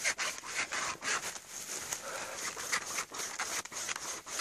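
Hand saw rasping through cold, wet wood outdoors, with steady back-and-forth strokes, fairly quiet and close, with no talking.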